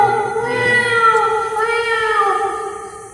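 Someone performing mimicry imitates a cat meowing with a drawn-out, wavering, tonal cry. It is loud and close, stands alone, and fades at the end.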